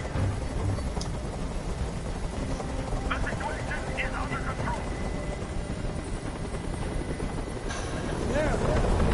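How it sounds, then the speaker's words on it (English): A helicopter in a PS4 video game makes a steady, loud rotor drone throughout, holding an even level from start to finish. "Tell that helicopter to get out of here."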